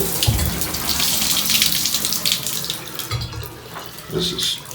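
A hotel room shower at a Courtyard by Marriott in Vicksburg, Mississippi runs steadily with a hissing spray and splashing water, close up, with a few soft knocks and faint handling noises.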